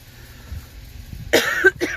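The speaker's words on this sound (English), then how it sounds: "Pardon my cough." A single sharp cough, fairly close, followed by a shorter second cough, over faint low background noise.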